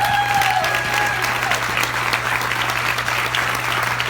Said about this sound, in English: I want you to give Susan a round of applause